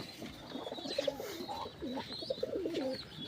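Pigeons cooing in a loft in a newly built house, several soft, repeated coos at moderate distance, steady and unhurried over faint background chirps, with no talking.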